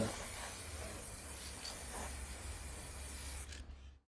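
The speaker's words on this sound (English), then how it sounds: "I use a protective spray on the ammunition box." A steady aerosol protective spray hisses continuously for several seconds onto a metal WW2 German ammunition box, close and fairly quiet, then cuts off abruptly.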